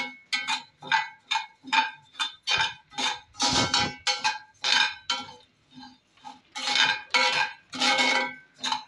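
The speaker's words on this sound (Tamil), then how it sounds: "செகப்பரிசி ஃபர்ஸ்ட் ஐட்டம், கைவிடாமல் வறுக்கணும்." Red rice dry-roasted in a pan while being stirred continuously, giving a close, steady run of rhythmic scraping and clinking strokes of a utensil against the pan, roughly two per second, with no talk.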